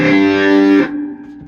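A loud, gritty overdriven Hammond organ chord held steady, then cut off abruptly, leaving a quieter sustained tone ringing underneath.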